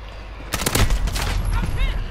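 Rapid gunfire in the Call of Duty video game, a dense burst of several close shots starting abruptly and trailing into a brief rattling tail, loud and dominant throughout.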